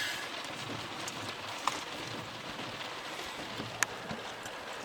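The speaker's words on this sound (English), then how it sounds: "Well, it's raining again." Constant soft hiss of falling rain with a few sharper drips standing out now and then; no one speaks.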